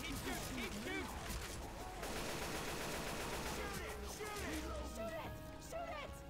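AK rifle gunfire in a video game, rapid bursts of shots running almost without pause, mixed with busy game sounds and a voice talking over the action.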